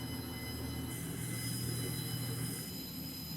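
A Class 142 train in Train Simulator rounds corners, heard from the passenger saloon as a steady, dense rumble of wheels and running noise with faint high squeal tones, continuous and moderately loud.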